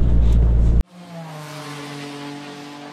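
A Peugeot 208 GTI engine picks up under light throttle in fifth gear from around 1800 rpm, a steady, smooth hum rising gently after a brief burst of louder noise at the start, with no talking.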